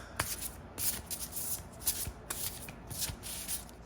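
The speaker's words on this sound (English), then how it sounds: "I'll get back to shuffling" Tarot cards being shuffled and riffled close by, a soft crisp rustling with brief flutters repeating every half second or so, quiet and steady.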